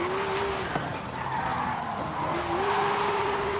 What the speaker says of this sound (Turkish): Drift çizgisini çok beğendim yalnız arkadaşlar.